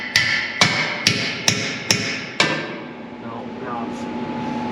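Six evenly spaced, ringing metallic hammer blows strike a transmission mount on a 1955 Ford F100 pickup, each hit decaying quickly before the next, then a lingering hum as the strikes stop.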